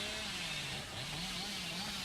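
A chainsaw in the Dead by Daylight video game revs steadily, a buzzing motor drone with a wavering pitch that holds throughout, loud and continuous.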